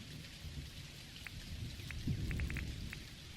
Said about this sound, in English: I love the sound of the thunder.